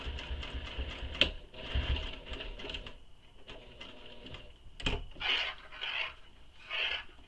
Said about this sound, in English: I'm going to back stitch where the O-ring is because I want some extra security